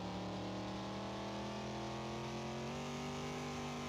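A car engine drones steadily while the car drifts in Car Mechanic Simulator 2021, holding an even mid-pitched hum that steps up slightly in pitch partway through, loud and continuous with no voices over it.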